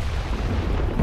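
A sustained low, rumbling boom from an explosion in the video game It Takes Two, heavy and continuous across the whole moment with no voices over it.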